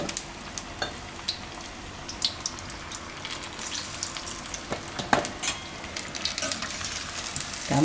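Parvar kofta frying in hot oil on a lowered gas flame, a steady close crackling sizzle with scattered sharper pops and light stirring clinks throughout, no voices.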